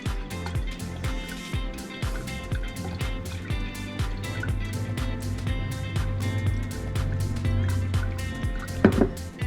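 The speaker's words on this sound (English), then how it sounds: "I'm going to shake this, the bottom here." Sourdough starter sloshed with water inside a container as it is shaken to rehydrate, rhythmic close splashing and sloshing strokes over several seconds, ending with a brief clunk.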